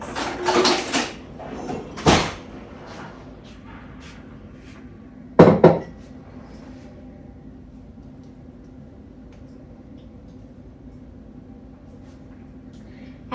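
Kitchen utensils and a cupboard being handled while getting a spoon during a homestead honey harvest: a couple of clattering knocks early on and another sharp clack midway, then quiet room tone.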